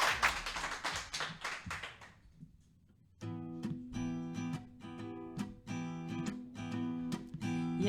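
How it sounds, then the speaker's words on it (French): Audience applause for a live singer in a living-room concert, a burst of clapping that fades into quiet before music starts. "On va l'applaudir très très fort."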